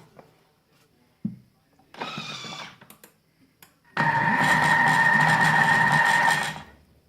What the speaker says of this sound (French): Je continue à pétrir pour commencer à introduire le beurre.